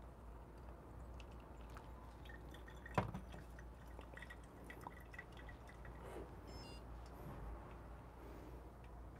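Boiling water poured over a paper coffee filter to rinse it, a soft steady trickle and drip under a constant low hum, with one sharp clack near the start.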